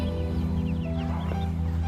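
Several chickens cluck softly nearby over a steady low mechanical hum, with short chirpy calls scattered throughout.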